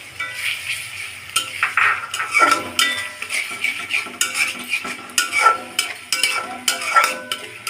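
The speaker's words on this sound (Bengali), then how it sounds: "এখন মশলাটা ভালোভাবে কষিয়ে নিব।" Spice paste stirred and fried in oil in a pan for a fish dish, with repeated scraping strokes of a spoon against metal over a soft sizzle, irregular and close.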